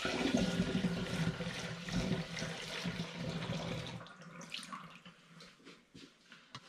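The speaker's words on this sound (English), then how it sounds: "This is now going in the demijohn via the funnel." Sweet tea poured through a funnel into a demijohn, a steady close gurgling stream that thins out into scattered drips and trickles toward the end.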